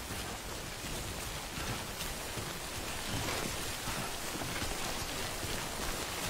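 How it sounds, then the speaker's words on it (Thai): Steady rain falls in a Dead by Daylight game, a quiet, even hiss of drops with no change in strength throughout and no voices. "ไอ้ฝนเนี่ยมันจะทำให้เรา"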